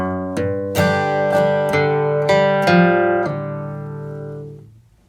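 A guitar plays the second measure of a country bluegrass lick in G: about seven bright strummed chord hits with hammer-ons in an even rhythm, ringing clearly, then left to fade out, with no talking.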